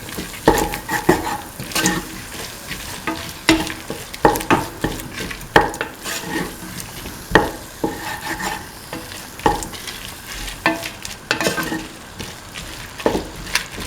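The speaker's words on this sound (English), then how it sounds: "scramble the eggs after it's fried for around 2 minutes. Thoroughly scramble and mix the egg." Eggs with bell pepper being scrambled and stir-fried in a sizzling pan, a steady fry hiss under repeated close scraping stirs and occasional utensil clinks against the pan.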